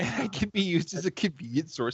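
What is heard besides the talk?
No distinct noise like a dog, phone or traffic.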